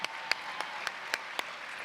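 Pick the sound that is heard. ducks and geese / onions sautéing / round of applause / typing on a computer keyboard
round of applause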